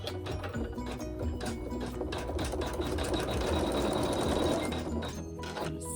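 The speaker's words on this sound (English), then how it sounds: "and we'll sew some quilting." A sewing machine runs continuously while quilting, a fast, even mechanical whir and rattle at moderate distance, with no talking over it.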